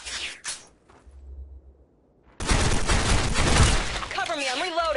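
K2 rifle fire in Special Force 2, an online shooter, arriving as a loud, dense burst of shots in the second half after a quieter stretch, ending with a warbling tonal effect.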